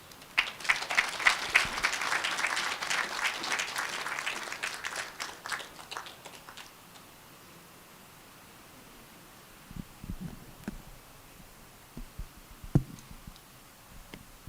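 A round of applause after a professorial inaugural lecture, dense clapping for several seconds that fades out into quiet, then a few scattered thuds and rustles.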